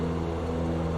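Ultralight aircraft engine at about 2,500 RPM in Microsoft Flight Simulator 2024, a steady droning hum with a constant low tone, heard alone over one second.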